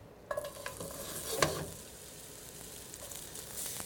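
Zucchini hitting a lightly greased pan and starting to sauté, a few clattering placements followed by a soft, steady sizzle close by, with no talk.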